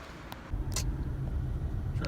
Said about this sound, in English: Driving away from Sheetz.